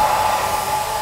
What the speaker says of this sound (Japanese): いまいちこのドライヤーは勢いが足りないかも